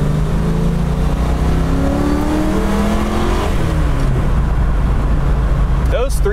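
A 1993 Ford Mustang LX 5.0 V8 pulls hard in fifth gear, a loud steady engine drone with rising harmonics throughout, the revs climbing smoothly before a brief sharper burst near the end.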